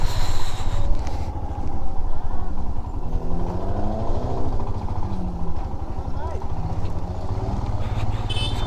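A fully modified Suzuki Swift with a four-cylinder engine descends a cold hill road near Mirik under engine braking. A loud, steady engine drone carries changing tones, and voices talk over it at times.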